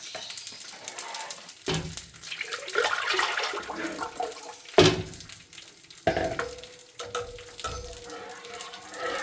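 A wheat mixture is poured into a pot on the stove and stirred, heard as close splashing, sizzling and scraping in uneven bursts, with a few sharper clanks of the pot.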